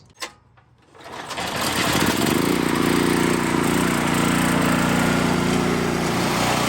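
A seized generator engine, recently freed, is pull-started beside a log splitter: a quick rope-pull rasp at the start, then the small engine catches after about a second and settles into a loud, steady, buzzing run.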